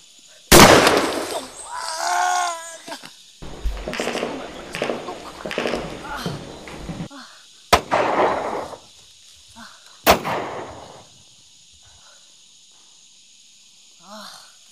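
Heavy gunfire in a clash between soldiers and bandits, several loud sharp cracks and booms spaced irregularly, some close and harsh, with fainter reports and a tense voice in between.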